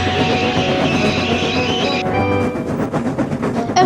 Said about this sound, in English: Thomas applied his brakes.